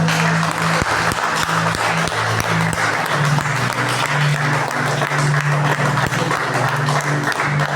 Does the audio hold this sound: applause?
yes